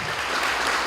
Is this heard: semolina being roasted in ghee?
no